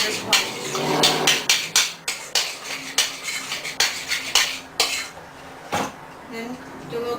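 A clean spoon stirs homemade avocado guacamole in a bowl, making a quick run of clinking, scraping knocks against the bowl with a few louder taps, close and fairly loud.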